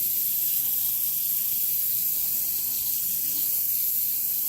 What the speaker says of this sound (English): we're just going to top this off here with just enough water to cover the fruit